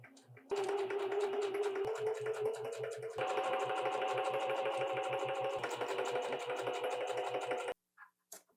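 Sewing machine stitching seams on an Edie top, a steady close motor whir with rapid rhythmic needle tapping running for about seven seconds, a brief change in speed midway, then stopping into near silence with a couple of small knocks.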